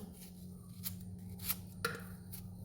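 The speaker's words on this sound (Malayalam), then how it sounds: "അങ്ങനെ വേണമെങ്കിൽ അരിഞ്ഞെടുക്കാം കുക്കറിലായതുകൊണ്ട് കുറച്ച് കട്ടി കൂടി നമുക്ക് അരിഞ്ഞിടാം" An onion being chopped for chickpea curry, heard as four or so separate knife strikes against a board at an uneven pace over a steady low hum, fairly quiet and close.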